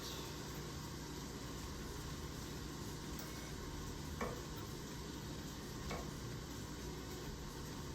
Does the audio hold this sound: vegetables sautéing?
yes